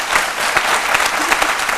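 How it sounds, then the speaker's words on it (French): Brief, dense applause from a studio audience on a midday TV show, steady and close throughout, with a few sharper claps standing out. "On vous applaudit très fort."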